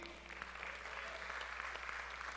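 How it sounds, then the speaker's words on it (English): Audience applause at a live comedy or hypnosis show in Pigeon Forge as a volunteer is called on stage, a steady wash of clapping heard at a distance over a low hum. "Round of applause for Keith"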